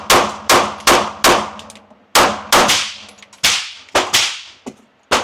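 Eleven sharp, loud suppressed gunshots from a Fusion XF Pro rifle, fired in an uneven string of quick cracks with short ringing decays between them, several spaced about half a second apart.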